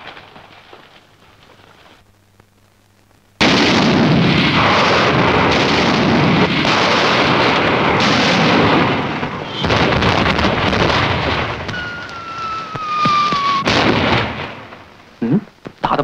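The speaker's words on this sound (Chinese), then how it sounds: "命令所有炮兵向莫天岭轰击" Artillery bombardment in a war film: after a quiet lead-in, a sudden loud, dense roar of explosions and gunfire runs continuously for about ten seconds, then thins into scattered blasts and a whistling shell.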